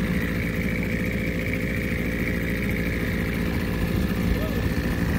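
An inflatable dinghy's outboard motor idles with a low, even drone throughout, constant in loudness with no revving.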